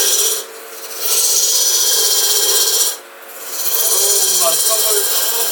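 Wood being cut diagonally on a wood lathe while making a three-piece bowl, a loud continuous rasping scrape in two long passes separated by brief pauses.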